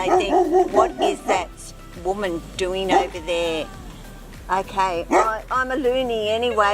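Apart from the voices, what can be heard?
dogs barking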